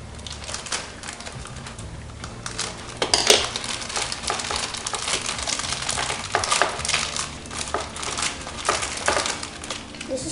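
Packaging for a Beyblade Burst Wild Wyvern launcher is cut open, giving a busy, continuous crackle and rustle of plastic and card. Brief sharper snips come through, and the sound stays close and fairly steady throughout.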